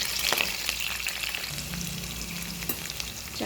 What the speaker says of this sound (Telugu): చక్కగా కొంచెం వేగనిద్దాం.